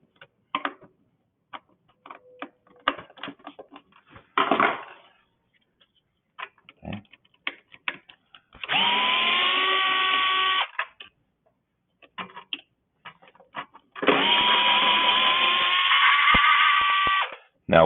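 Ratcheting and clicking from tools loosening bolts on a two-stroke engine teardown, with scattered ticks and two long whirring bursts of a powered driver, close and clear with no talking.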